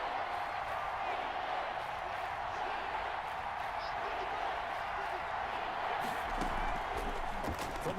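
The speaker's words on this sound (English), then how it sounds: "the crowd getting into it as we come up on a big 3rd down" A football stadium crowd roaring in a steady, distant wash of noise before a big third-down play, with a commentator talking over it.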